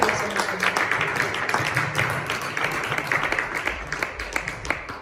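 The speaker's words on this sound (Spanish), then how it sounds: "fuerte el aplauso al Señor." A church congregation applauding together, dense steady clapping that fills the room for the whole stretch, with low murmuring voices and a few louder claps poking through.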